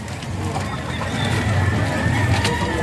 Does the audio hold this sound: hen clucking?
yes